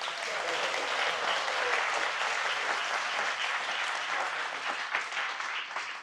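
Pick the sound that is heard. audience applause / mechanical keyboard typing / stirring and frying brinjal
audience applause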